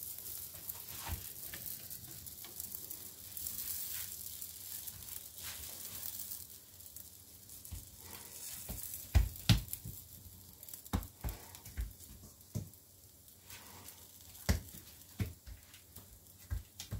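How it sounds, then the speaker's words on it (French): Kerala paratha, a layered flatbread, cooks on a hot tava or crepe pan with a steady soft sizzle, broken by scattered crackles and light taps, close by and with no talking. "On la transfère sur la tava ou la poêle à crêpes."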